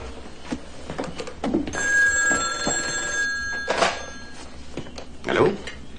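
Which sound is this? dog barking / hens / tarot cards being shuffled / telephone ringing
telephone ringing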